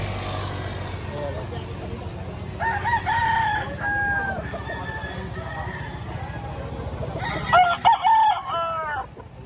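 Roosters and gamefowl, including stags and a hen, crow and cluck at a crowded fowl sale in Lipa, Batangas. Several long, loud crows rise over steady background noise and clucking while people talk nearby.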